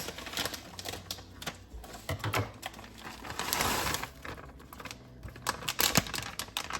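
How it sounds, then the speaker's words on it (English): A bag of mixed vegetables is poured into a slow cooker, making a rapid, close rattle of small pieces clattering and tapping against each other and the pot in irregular bursts. "we're gonna add in a bag of mixed veggies"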